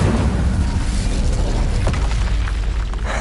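A roaring fiery blast from an Incendio spell cast in Hogwarts Legacy, a loud, sustained whoosh of flame with booming explosive texture filling the whole moment.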